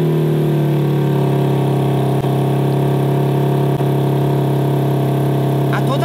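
A car engine idles steadily with a low, even rumble that holds at constant loudness throughout, close by.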